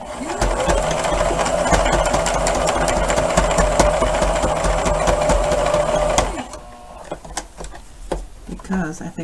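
A sewing machine runs steadily for about six seconds, re-stitching the seams of gloves made from sweatpants close to the edge, then stops, leaving quiet room sounds and faint movement.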